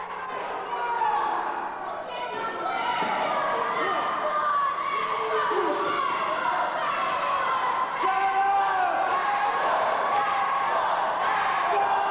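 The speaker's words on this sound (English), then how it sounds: "And the crowd is into their fatso routine with the Professor, and he doesn't like it a bit" A wrestling crowd chants a taunting fatso routine at a heavy manager, a broad, rhythmic roar of many voices that continues steadily under a commentator's talking.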